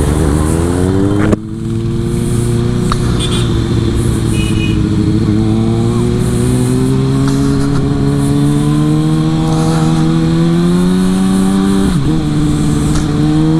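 Kawasaki Ninja ZX6R super sport motorcycle engine heard while riding, a loud, steady high-revving drone with rising pitch sweeps through gear changes, close and continuous for the whole stretch with a brief dip near the start.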